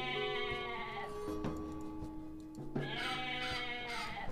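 Goats bleat in the video game Age of Mythology, two or three wavering cries over soft game background sounds, fairly clear and close.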